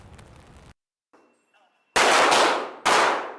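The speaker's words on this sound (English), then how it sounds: "Gun range training" Two loud, sharp gunshot blasts ring out at a police academy gun range, each one close and followed by a brief decaying tail, after a stretch of muffled background sound and a near-silent pause.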